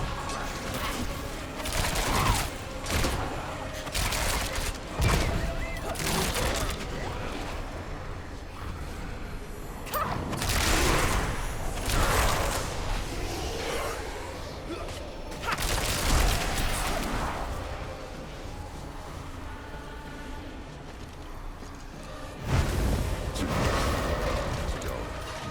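Rogue chain projectiles explode enemies in the Diablo 4 video game. Repeated booming blasts and crashing combat effects run densely over the whole stretch, with swells of heavier impacts and game voices mixed underneath.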